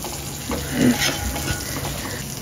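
Prawns coated in green masala sizzle in a pan over a medium-high flame as they are stirred, giving a steady, close frying hiss with soft scraping and bumps from the stirring.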